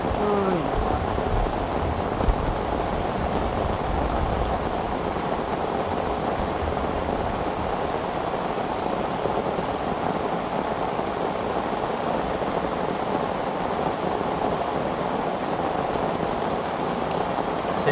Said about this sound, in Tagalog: hindi natin ina-expect tong sobrang lakas ng ulan